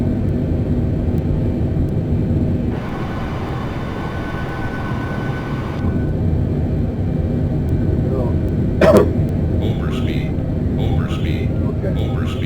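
Aircraft engines in a flight simulator game hold a loud, steady roar that swells for a few seconds before easing back, with someone talking over it throughout.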